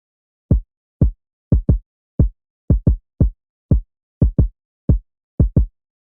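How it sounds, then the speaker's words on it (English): Kick drum loop programmed in BandLab, playing alone with the sample muted: deep, punchy booms in a syncopated pattern of singles and quick doubles, dry and separated by silence. "Let me mute the sample so you can hear the kicks"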